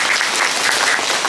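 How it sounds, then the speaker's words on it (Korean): Steady applause from an audience, a dense wash of many hands clapping without pause, with no voices over it. "큰 박수로 맞아주시면 고맙겠습니다."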